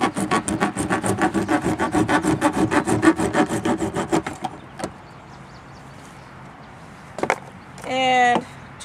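A hand saw rasps rapidly back and forth in rhythmic strokes for several seconds, cutting the bottom off a container, then stops; a couple of thuds and a short creaking scrape follow.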